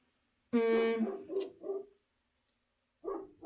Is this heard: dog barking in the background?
yes